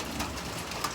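Rain from an Ohio thunderstorm falls in a steady, close wash of hiss, even and unbroken for the short moment, with no talking.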